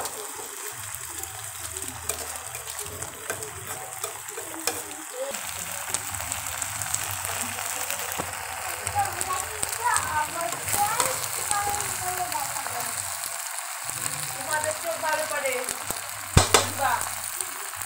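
Pasta being stirred in a sizzling pan while it cooks, steady frying crackle with scraping and bubbling, fairly quiet, with occasional soft voice in the background.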